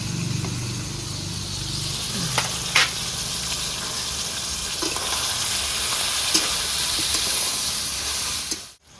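Green peas fried with onion in a pan give a loud, continuous sizzle broken by occasional spoon scrapes and taps, and the sound stops abruptly at the end.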